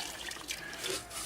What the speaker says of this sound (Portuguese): O complemento agora é a gente pôr água